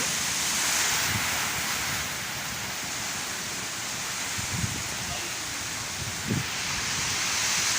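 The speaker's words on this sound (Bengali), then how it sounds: "আমি তো যেই ঝড় বৃষ্টি হচ্ছে আমাদের এখানে" Steady, dense roar of storm wind and rain in Harinakunda, Jhenaidah, Bangladesh, constant throughout, with a few soft low thumps rising out of the wash.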